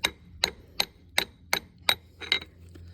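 Seven sharp metallic brass hammer taps at a steady rhythm, driving a part into a Ford 8.8 axle during a clutch install, close and fairly loud, with brief quiet gaps between strikes and no talking.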